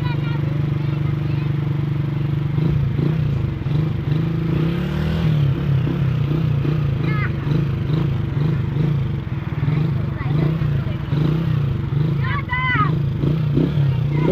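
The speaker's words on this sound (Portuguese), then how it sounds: "Aí deixa no neutro, fica acelerando para não ter trabalho." A motorcycle sits in neutral with its engine held at raised revs, its carburetor suspected of trouble, making a loud, steady drone with uneven pulsing throb close by, while a rider talks over it.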